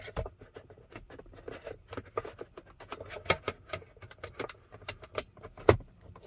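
Plastic clicks, taps and rustles sound close and quiet as an integrated sunglasses holder is held up and pushed into place in a Tesla Model Y, in irregular bursts with one sharper snap near the end.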